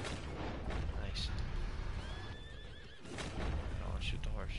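A horse neighs with a drawn-out whinny amid a dense wash of game noise and rumble in Red Dead Redemption 2 Online, loud and close.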